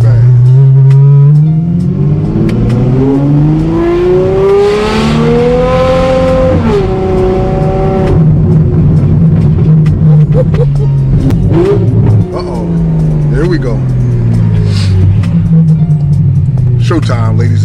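A 2019 Ferrari 812 Superfast heard from inside during a ride, its engine loud and close, climbing in pitch through hard accelerations and shifts, then easing and pulling again, with a voice talking over it.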